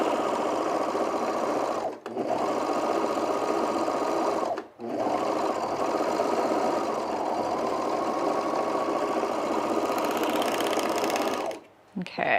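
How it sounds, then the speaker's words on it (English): An overlocker stitching mesh fabric, running in three long bursts of fast, steady mechanical whirring, with two short pauses between them and a brief stop near the end, while speech is heard faintly under the machine. "I haven't overlocked mesh in a while"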